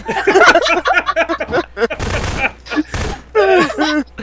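Two loud gunshot bursts in a Prop Hunt round, sharp blasts cutting between excited, overlapping voices of players talking throughout.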